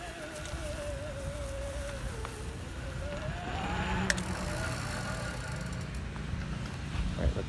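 A Luna Cycle X-1 eBike's Bafang M600 mid-drive motor whines during a test run in a higher gear, its pitch wavering and climbing under steady road and wind noise, with a soft click partway.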